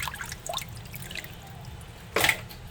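Small desi poa fish are rinsed in water, with soft sloshing and dripping throughout and one louder splash near the end, close and fairly quiet.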